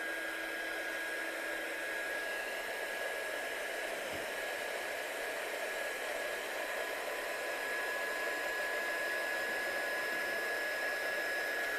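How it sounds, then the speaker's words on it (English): Heat gun melting clear embossing powder on a handmade card, a steady close whooshing blower hiss with a faint high whine, continuous and unchanging throughout. "So I'm just going to start to heat emboss this now."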